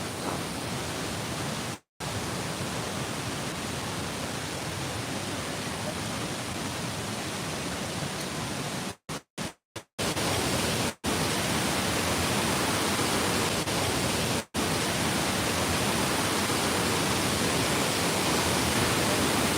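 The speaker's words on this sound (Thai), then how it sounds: "นี่คืออน้ำตกสั้นลุ่ม" Waterfall in northern Laos: steady, broadband rushing water, loud and continuous throughout, broken only by a few brief dropouts.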